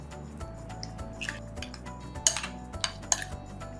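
Chicken being stirred in a marinade of grated garlic, ginger, soy sauce, salt and egg, with soft wet squishing and scattered clinks of a utensil against the bowl, close and moderately quiet.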